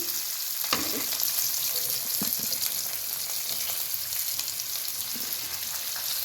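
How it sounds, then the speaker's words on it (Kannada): Tomatoes and curry leaves frying in oil while making hotel-style vermicelli upma, a steady loud sizzle close by with occasional spatula scrapes and stirring knocks, no talking. "ಟೊಮೊಟೊ ಈಗ ಇದು ನೀಟಾಗಿ ಫ್ರೈ ಆಗಲಿ"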